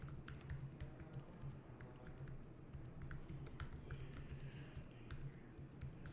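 Steady computer keyboard typing as placeholder text is entered while building an automotive Facebook lead ad, a continuous run of quick, fairly faint key clicks with a low hum underneath and no talk.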